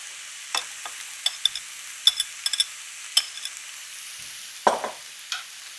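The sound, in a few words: carrots and shiitake mushrooms stir-frying in pan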